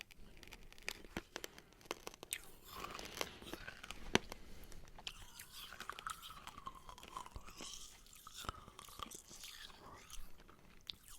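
Close-up crunching and chewing of hard orange candy, crisp irregular bites and grinding, with a few quiet vocal sounds mixed in.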